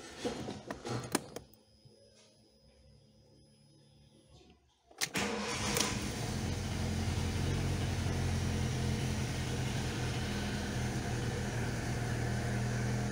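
A cold Fiat Palio Fire engine cranks and catches, briefly stumbling during a clutch test before settling into a steady, loud idle that continues to the end.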